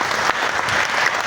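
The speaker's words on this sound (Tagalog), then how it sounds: "Isa munang malakas na palakpak sa Panginoon." Loud, sustained applause from a congregation inside a parish church during an anniversary healing service, a dense wash of clapping filling the room evenly from start to finish.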